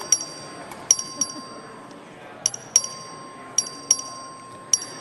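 Short, bright electronic chimes ring repeatedly at irregular intervals during a record vote in the Texas House chamber, with faint room murmur underneath.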